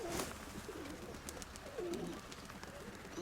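An old pigeon coos close by, a few soft throaty phrases rising and falling, with faint background clatter.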